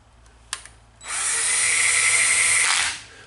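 Small power driver whirs for about two seconds driving a bolt into an RC helicopter's upper frame, a high steady motor whine after a couple of light clicks, close and fairly loud.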